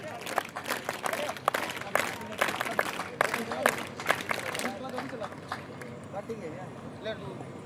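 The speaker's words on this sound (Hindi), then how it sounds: "एक बार जोरदार वीर ताली के साथ स्वामी जी का धन्यवाद अर्पित करेंगे।" Audience at an Arya Samaj camp closing ceremony bursts into loud, dense clapping close by that fades to scattered claps toward the end, with talk underneath.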